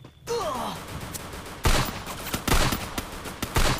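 Gunfire rings out in a shooter video game, a short burst of sharp, punchy shots in quick irregular succession after a brief breathy vocal sound, fairly loud and close.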